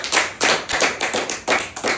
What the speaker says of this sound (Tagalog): Palakpak sa Diyos.